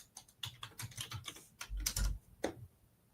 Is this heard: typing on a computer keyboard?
yes